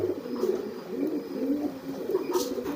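Soft, continuous cooing from a freshly bathed pigeon close by, a low rolling murmur repeating throughout with faint background noise.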